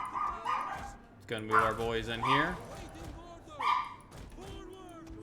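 A pet dog barks and lets out drawn-out yelping whines nearby, a few loud bursts rising over someone talking through a Total War Rome II strategy game session.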